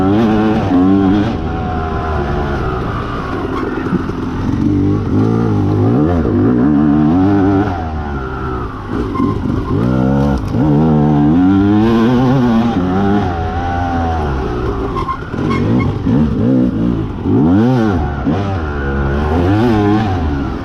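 A dirt bike engine runs loud and close, revving up and down repeatedly in uneven bursts with a raspy, buzzing tone and no talking over it.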